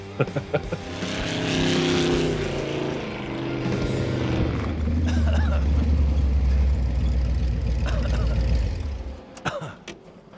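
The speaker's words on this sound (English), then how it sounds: "The sound of the exhaust right there in stereo, pure adrenaline rush." A custom hot rod's loud, deep exhaust rumble builds and holds steady, then cuts off with a few sharp pops near the end.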